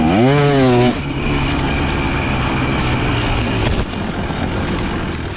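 Dirt bike engine revving loud and close while riding off-road, a rising rev sweep at the start settling into a steady, gritty drone with a brief dip near the end.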